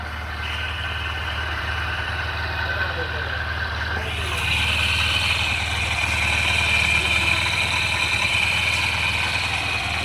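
A motorcycle engine, an SP 125 bike under repair, idles steadily with a low rumbling drone, growing slightly louder and brighter partway through, close by with faint background voices.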